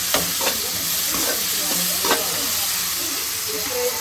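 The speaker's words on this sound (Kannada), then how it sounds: "ಈಗ ಸ್ವಲ್ಪ ಚೆನ್ನಾಗಿ ಫ್ರೈ ಆಗಬೇಕು ಈರುಳ್ಳಿ" Onions for egg curry frying in a pan, a steady close sizzle and hiss with a few scraping stirs of a utensil against the pan.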